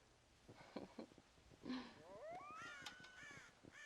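Crows cawing in the video game Red Dead Redemption, several harsh rising caws overlapping from a flock, moderately close against a soft background.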